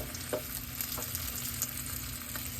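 A gluten-free vegan breakfast burrito frying seam-side down in a pan, giving a constant close sizzle with a few soft taps and stirring scrapes, no talking.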